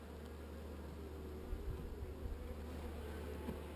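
Agitated honey bees in a top-bar hive, opened before winter without a smoker, give off a steady, fairly quiet buzz, alone with no voices.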